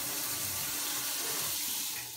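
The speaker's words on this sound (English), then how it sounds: "Isn't that what's called a rain? A rain shower." A rain shower head runs in a bathroom, giving a steady, close hiss of falling water with no voices.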